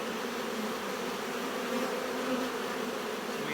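Honeybees buzz on a sparsely covered hive frame, a dense steady hum close to the microphone with no talk.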